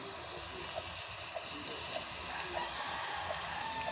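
Steady hiss of rain falling, with soft, evenly spaced drip-like ticks repeating throughout.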